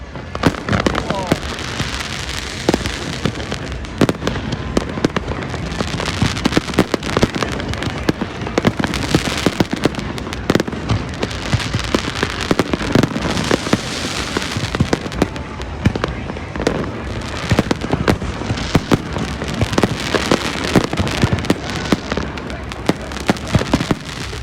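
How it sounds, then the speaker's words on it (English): Dense crackling bursts and loud booms of fireworks go off continuously right overhead of a sailboat at Cabo San Lucas, sharp and close, with faint voices mixed into the din. "now these things are exploding right on top of Frog's Leap"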